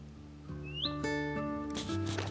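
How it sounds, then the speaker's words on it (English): A willow warbler sings from a tree in summer heat, giving a short, clear whistled phrase that sits close and distinct above a soft background murmur. "I believe that to be a willow warbler"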